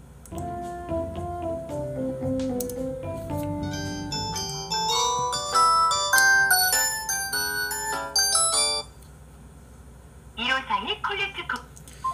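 A telephone ringing with an incoming call placed from a public payphone: a melodic electronic ringtone of rising and falling tones plays for several seconds, then a pause, then short bursts that sound like talk.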